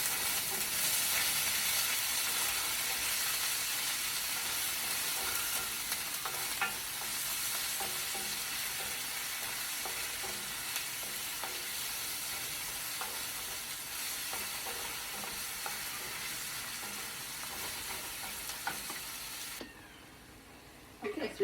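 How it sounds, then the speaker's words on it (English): Onions hiss and crackle as they fry in warm olive oil in a pan for a vegan quiche filling, with a spoon stirring through them now and then. The steady sizzle runs close and even, then cuts off near the end. "So we've got some onions here going into our pan that we had warming with olive oil."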